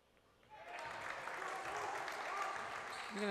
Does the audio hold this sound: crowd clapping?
yes